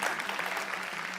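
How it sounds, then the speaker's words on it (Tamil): A studio audience at a TV comedy show claps for a performance, a full, steady burst of applause from many hands throughout. "அதுக்கு ஒரு பெரிய கைத்தட்டல் கொடுத்துருக்கோம்"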